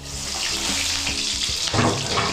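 Sliced onions tossed into a little hot oil for chicken curry, with a rushing, watery sizzle that swells and grows louder near the end, with no voices.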